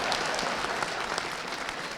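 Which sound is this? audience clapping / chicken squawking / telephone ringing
audience clapping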